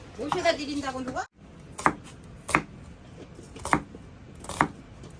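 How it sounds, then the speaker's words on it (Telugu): Garlic cloves smashed in a home kitchen, four sharp thuds spaced about a second apart after a short stretch of speech, each a crisp, close impact. "వాటిని ఇలా స్మాష్ చేస్తాను"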